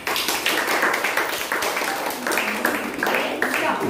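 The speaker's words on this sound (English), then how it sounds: "Yes, you clap for her." Seventh-standard students in a classroom clap for a classmate, a steady run of dense, fairly loud applause with rhythmic bursts that continues throughout.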